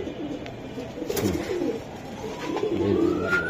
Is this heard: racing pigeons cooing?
yes